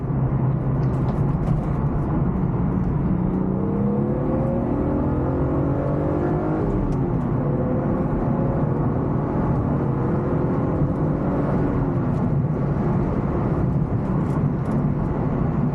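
A 1998 BMW M3 cruising at speed, heard from inside as a constant engine drone with rising and falling whine as revs shift, under steady road and wind noise, with no talk.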